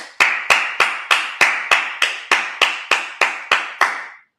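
Twelve evenly spaced, crisp claps ring out at a steady beat during a Sabbath church service, each loud and sharp with a short decay, with no talking.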